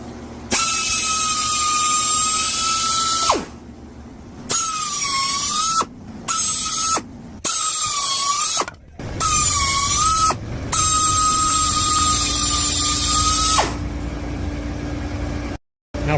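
A reamer is run dry, without oil, through the valve guides of a 1959 Chevrolet Bel Air Blue Flame 235 inline-six cylinder head. It gives a loud, high, steady whine in repeated bursts separated by short pauses, with no voices.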